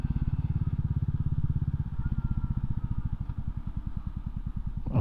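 A Royal Enfield 350 single-cylinder motorcycle thumps steadily while riding in fourth gear, its rapid, even exhaust pulses loud and close, quickening slightly toward the end.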